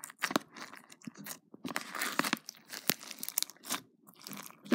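Close, crisp crackles and pops burst out irregularly as crunchy slime is pressed and squeezed, with brief quiet gaps.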